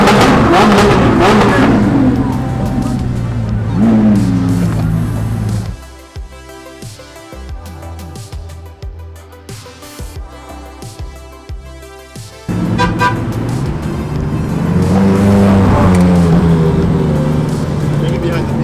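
A convoy of hypercars including a McLaren P1 on the road, engines droning and revving loudly with passing whooshes, a quieter cruising stretch in the middle, under people talking.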